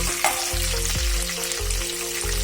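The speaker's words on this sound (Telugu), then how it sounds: "వీటన్నిటిని మనము ఫ్రై చేసుకున్నాము" Green chillies fry in a pan with a steady, close sizzle and crackle that holds for the whole stretch at even loudness, with faint low stirring knocks underneath and no voice.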